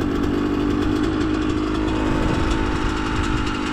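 KTM motorcycle engine running steadily while the gears are tested, a loud continuous close rumble with no pauses and no talking.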